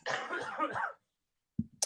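A single close cough bursts out after a moment of silence, following a brief stretch of someone talking.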